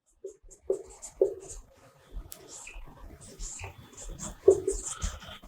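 Pen or marker scratches across a surface while notes are written during a chemistry lecture, short irregular strokes close by, mixed with brief breathy vocal sounds and pauses.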